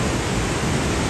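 Vernal Fall in Yosemite Valley roars as a loud, steady, unbroken wash of falling water, heard alone with no voices.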